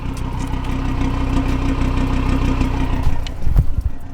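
A catless Audi RS3 idles standing still in dynamic mode with its exhaust valves open, a deep, steady burbling rumble close by, with a slightly rougher gurgle near the end.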